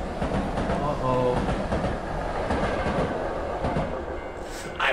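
A spectral skull train from the horror game Tsugunohi rumbles past, heavy and close, with rhythmic clacking of wheels over rails under a steady roar, ending with a brief high squeal.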